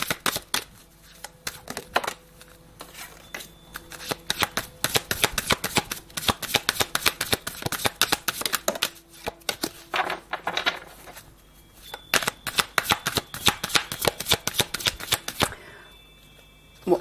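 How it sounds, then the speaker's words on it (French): Tarot cards shuffled and drawn at a reading, a dense run of crisp, rapid riffling clicks and slaps close to the microphone, pausing briefly near the middle and again near the end, with no talking. "J'ai envie de retirer 3 cartes comme ça."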